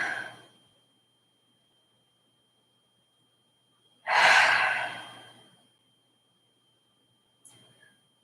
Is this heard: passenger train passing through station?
no